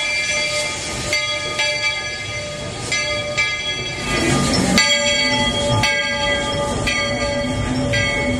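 Walt Disney World Railroad steam train pulling out of Main Street Station at Magic Kingdom, with steady chugging and rail rumble, sustained steam whistle tones and periodic clanks as it gathers pace nearby.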